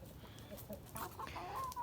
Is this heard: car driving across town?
no